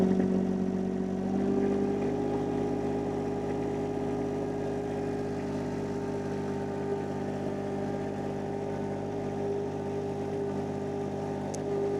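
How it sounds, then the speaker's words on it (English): A mini skid steer's engine, running during a hydraulic pressure check, rises slightly in pitch early on and then holds a loud, steady drone at raised throttle for the rest of the stretch, with no talking. "I'm going to go ahead and throttle up."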